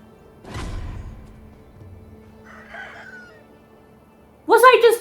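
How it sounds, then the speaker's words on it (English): A rooster crows in the video game Sekiro: one short, loud, harmonic call bursts out at the end, after a stretch of quieter thuds and low background sound. "Was I just sighted by a chicken?"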